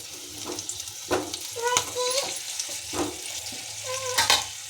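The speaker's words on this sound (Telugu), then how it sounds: "ఇలా వేసేసి కొంచెం ఆయిల్ అంతా వాటికి అప్లై అయ్యేలా ఫ్రై చేయండి" Sweet potatoes fry in a little oil with a steady sizzle, close by, broken by several scraping stirs and clinks of a utensil against the pan.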